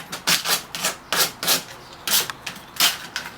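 Chalk-painted furniture is distressed with short, rhythmic scratching strokes, about a dozen quick rasps in a steady back-and-forth pattern, close and fairly quiet.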